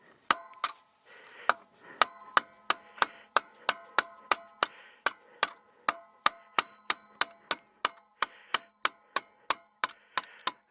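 A hammer strikes a punch set against a bolt on an electric motorcycle build, about two dozen sharp metallic taps in a steady, close rhythm, each ringing briefly.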